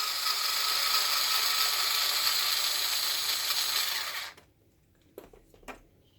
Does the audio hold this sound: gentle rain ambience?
no